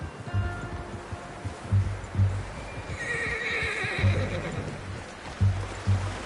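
A horse in the Red Dead Redemption 2 video game whinnies while hooves clip-clop in a steady rhythm, the neigh rising clearly over the footsteps at close range with no voices.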